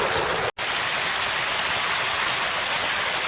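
Water pours steadily over a small creek waterfall beside a bridge at night, a dense even rush broken by one abrupt half-second dropout near the start.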